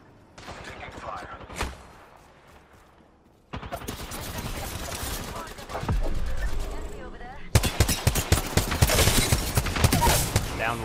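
Gunfire in a shooter video game, starting with scattered single shots and then building into dense, loud bursts of rapid automatic fire and heavy reports in the later seconds.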